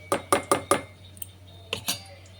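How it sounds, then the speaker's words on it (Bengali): A spoon scraping and clinking against a metal pot of milk being stirred: four quick close taps in a row, a short pause, then two more, with no talking. "কন্টিনিউয়াসলি একটুখানি এরকম হিলাতে হবে, মানে নাড়িয়ে যেতে হবে।"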